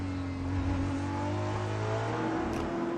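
Endurance race cars at the 6 Hours of COTA roar past close by, their engines holding loud sustained tones with a steady whine and slight pitch shifts, and no talk over them.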